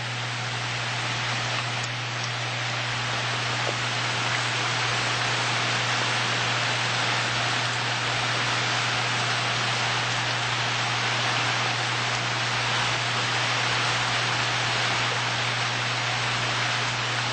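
Steady rain falls without pause, a dense even hiss that stays constant throughout with a low hum underneath and no voices.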